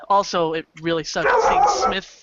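A dog barks and yips in several sharp bursts, loud and near, mixed over someone talking continuously.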